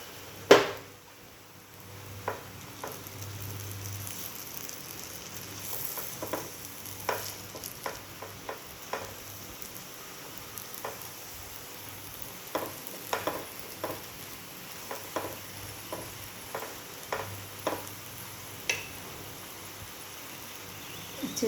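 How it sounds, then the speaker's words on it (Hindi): An aloo paratha frying in ghee on a pan on full flame, with a low steady sizzle punctuated by scattered clicks and light taps of a spatula, close and with no speech. "अब हम डालेंगे पराठा।"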